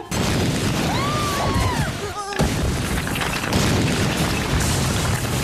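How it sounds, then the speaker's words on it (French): A booming cartoon explosion with shattering debris cuts through busy music and effects, followed by a rumbling tail. "Et une explosion à la Michael Bay pour le fun"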